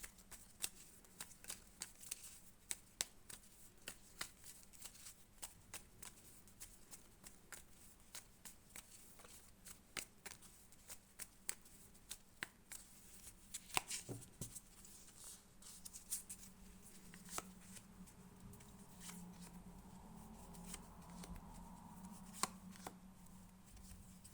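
Quiet, repeated crisp flicks and soft slaps of tarot cards being shuffled and laid out onto a surface, with a low steady hum underneath.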